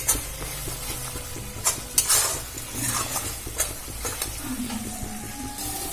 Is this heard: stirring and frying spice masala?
yes